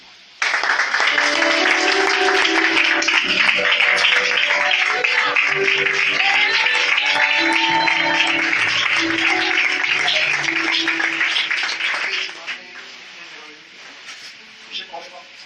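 Church congregation applauding in sustained, dense clapping for about twelve seconds, loud and close, with voices and sung notes mixed in before it fades out.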